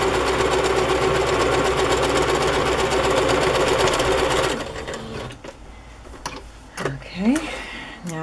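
A sewing machine runs steadily for about four and a half seconds, zigzag stitching along the edges of vintage bed sheets, then stops; fabric rustling and scattered small handling sounds follow.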